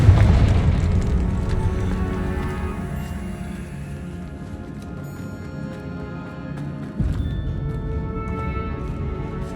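A Confringo blasting spell explodes in Hogwarts Legacy with a loud booming burst at the start that fades over several seconds, then a second sharp thump near the end.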